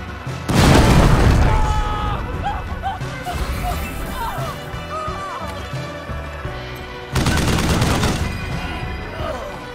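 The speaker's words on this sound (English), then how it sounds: "Throw a grenade here. And we're going to do damage to him and also potentially blow him up a little bit." Grenade explosion in the Wasteland 3 video game, a loud deep boom with a rumbling tail, followed by a second heavy blast several seconds later, with game effects and a voice under the noise.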